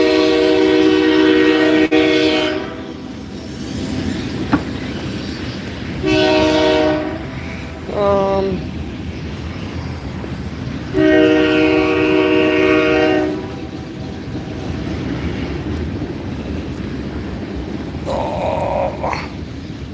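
A loud Canadian Pacific freight train rolling past nearby, its horn sounding repeatedly in long blasts over the steady rumble and clatter of the cars.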